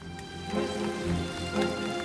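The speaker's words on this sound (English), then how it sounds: "it's raining so much" Heavy rain pours at an archaeological dig site, a dense continuous patter of drops striking surfaces close by with no talk.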